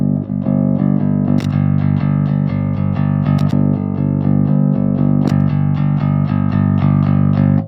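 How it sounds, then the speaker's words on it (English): Bass guitar through a Trace Elliott amp with the shape function on, a steady clanky tone with repeated plucked notes played loud and close without pause. "Without adding distortion, it makes the whole bass tone more clanky."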